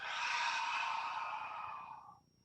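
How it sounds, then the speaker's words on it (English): One sustained outbreath during a QiGong exercise, a close, breathy rush that holds steady, then tapers off and stops near the end, with no talk over it. "Breathing out"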